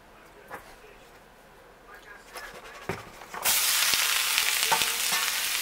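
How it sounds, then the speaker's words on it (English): Vegetable fried rice is stir-fried in a smoking-hot pan. After a quiet start with a few light knocks, a loud, steady sizzling hiss suddenly takes over and continues to the end. "we're smoking, making vegetable fried rice"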